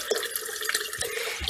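Leachate from a vermicomposting worm bin trickles and splashes into a collecting container, a steady close watery pour with a few drips.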